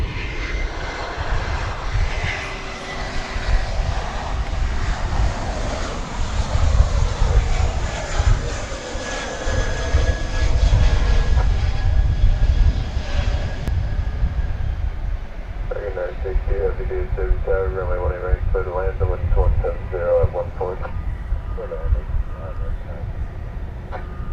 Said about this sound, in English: American Airlines 2342 arriving from San Antonio, Texas in Airbus A321 here on Runway DFW